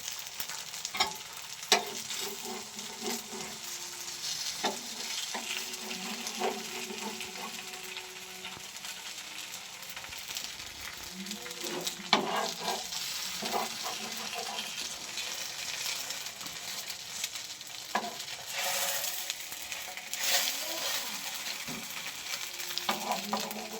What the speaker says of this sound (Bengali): নারকেল ছাইটা এবারে দিয়ে দেবো।